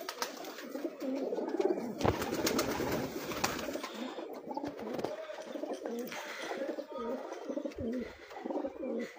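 Flying pigeons on a rooftop loft in Punjab coo steadily and densely for several seconds, a close, continuous murmur of overlapping calls with some scattered clatter and rustling.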